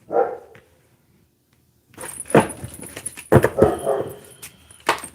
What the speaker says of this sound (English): I'm going to go put that dog inside.